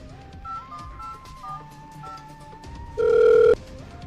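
A telephone plays a string of short keypad dialing tones, then a loud, sustained ringing tone cuts in near the end.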